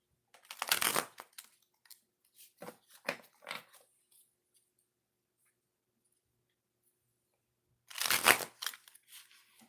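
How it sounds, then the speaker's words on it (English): Two quick riffling bursts of cards being shuffled, a few soft taps and rustles between them, close and fairly quiet. "Shuffle this up."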